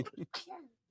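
A single quick, quiet sneeze follows a brief faint breathy sound, close and muffled, during a tabletop game session at a convention.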